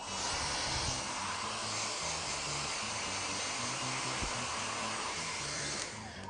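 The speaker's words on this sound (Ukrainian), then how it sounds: "поверхня чиста, проте волога, тому посушимо її за допомогою фена" A handheld hair dryer blows steadily while drying damp upholstered furniture after cleaning, a constant airy whir with a faint motor tone, heard alone throughout.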